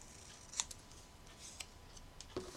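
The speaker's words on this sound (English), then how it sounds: "And of course I'm using my ginormous scissors" Large scissors snipping through paper while making simple paper ornaments, with a few quiet, separate crisp cuts over a faint background hiss.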